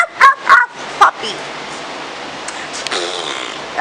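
A person imitates a dog with three short, loud, yipping barks in quick succession, followed by quieter background noise and faint murmurs.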